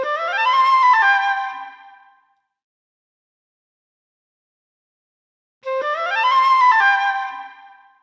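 Two separate flute notes from the Lamb Chop Loves Music PC game, each a clear breathy tone swelling for about two seconds and then fading, with a long silence between them and no voices.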